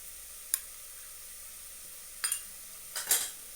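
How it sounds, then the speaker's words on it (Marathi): Turmeric fries in hot oil with onion for a village-style mutton dish, giving a faint, steady sizzle. Three sharp spoon scrapes against the pan sound as it is stirred, one early and two close together near the end. "आता ही हळद थोडीशी हलवते जरा तेलावर तळलेली चांगली असते"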